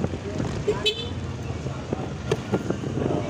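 Busy road traffic in the Philippines during a Lalamove delivery ride, with a short car horn toot near one second and a steady engine and road rumble underneath, while a voice talks throughout.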